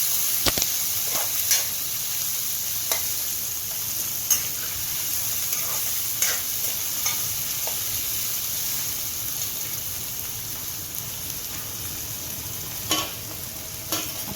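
Finely chopped onions for tomato rice sizzle and fry steadily in a pan while being stirred, with soft spatula scrapes and clicks over a constant hiss, close and alone with no talk.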